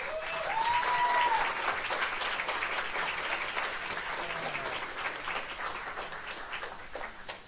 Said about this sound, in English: We should hold the clapping for the end in case it's not any good.